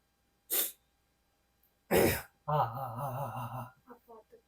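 A person coughs sharply twice, then clears the throat with a rough, voiced rasp and a few trailing breathy sounds, close and alone.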